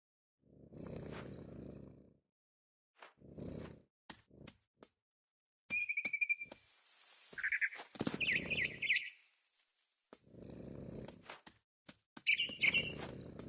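Bird chirping high in a big tree in a video game, short tweeting calls scattered among quiet gaps and low rumbling bursts.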